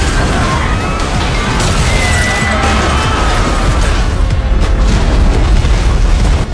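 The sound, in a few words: movie Golden Gate Bridge collapsing, destroyed by tsunami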